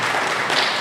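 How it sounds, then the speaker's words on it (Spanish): A church congregation applauds in a dense, steady wash of many hands clapping together, loud and close, with no pauses through the brief stretch. "Dele ese aplauso al Señor con todo su corazón"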